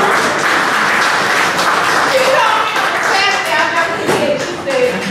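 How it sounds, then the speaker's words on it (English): A loud, dense round of applause for a city manager fills a meeting hall, steady throughout, with faint voices underneath. "Please give her a big round of applause."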